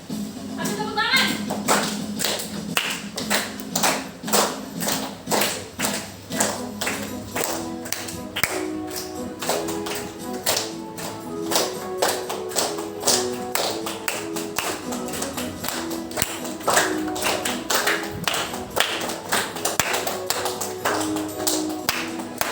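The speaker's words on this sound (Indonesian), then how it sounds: "Ambil tepuk tangan." Children in a classroom clap together in a fast, steady rhythmic pattern that runs on and on, loud and close, with bright, sharp claps and some voices mixed in.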